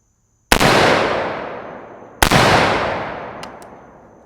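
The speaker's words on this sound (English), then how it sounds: "we're going to shoot 2 rounds unsuppressed" Two loud unsuppressed rifle shots from a GDM556k fired into a dirt berm at an outdoor range, each a sharp crack with a long decaying echo, spaced under two seconds apart, with faint clicks afterward.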